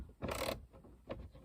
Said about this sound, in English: little bit of a turn on the ratchet